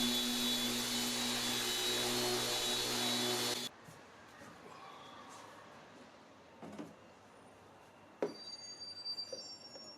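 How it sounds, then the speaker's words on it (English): A power sander runs on wooden pieces for an outdoor end table top, a loud steady whirring hiss that cuts off abruptly after a few seconds, followed by quiet room sounds and a couple of sharp knocks. "Just give all the pieces a quick sanding"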